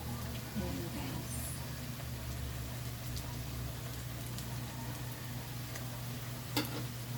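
Slices of banana blossom (puso ng saging) frying in a pan, a steady close sizzle with fine crackling that holds evenly throughout, with a small clink near the end.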